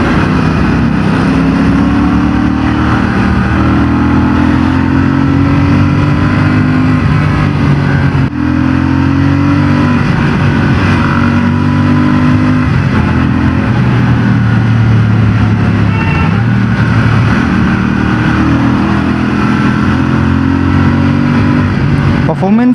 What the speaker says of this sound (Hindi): ये बाइक बहुत गजब पुल करती है।